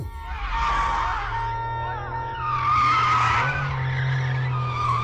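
Car tires skid with a loud, sustained squeal in two long swells over a low engine drone, close and alone.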